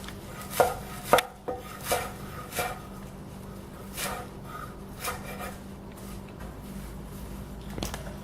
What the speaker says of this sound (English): You want to pick these off the stem and then just give them a rough chop